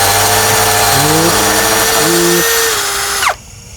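A power drill whines loudly and continuously for about three seconds, its pitch stepping up and down as pressure changes, then spins down and stops abruptly, leaving quiet.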